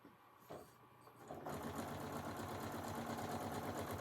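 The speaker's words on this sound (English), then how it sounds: "And start sewing the rows together." After a brief click and rustle, a sewing machine starts up and runs steadily, joining rows of quilt blocks with a close, continuous mechanical hum that fills the rest of the moment.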